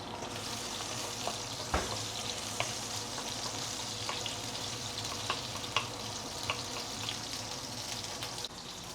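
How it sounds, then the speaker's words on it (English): Ginger, spring onion and chili sizzle in hot oil in a wok, a steady crackling fry with occasional clinks and stirring knocks throughout, fairly quiet and without talk. "let's heat up some oil here. And I'm going to saute the ginger, spring onion, and also chili."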